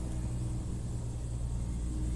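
Garbage truck engine idling nearby, a steady deep rumble that holds at an even level throughout with no voices.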